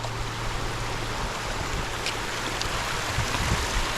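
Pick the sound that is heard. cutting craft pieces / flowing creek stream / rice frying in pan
flowing creek stream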